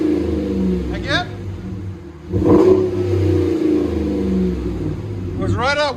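A RAM 1500 truck with a 5.7L HEMI V8 and aftermarket exhaust, resonators removed, idling with a deep rumble and giving a sharp rev midway, while people talk nearby.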